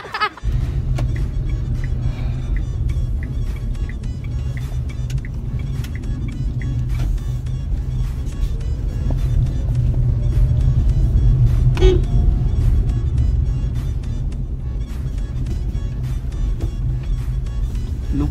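A Nissan Magnite driving through the streets of Kalyani, heard from inside the cabin as a steady low engine and road rumble, with occasional clicks and faint outside traffic sounds, and no clear voices.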